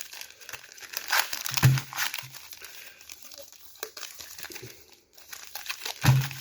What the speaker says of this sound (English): we'll give them a shuffle